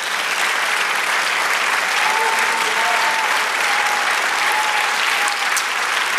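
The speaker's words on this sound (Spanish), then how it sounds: "Dale otro aplauso al Señor." Steady, full applause from a church congregation giving praise during a sermon, continuous and even with faint voices mixed into the crowd noise.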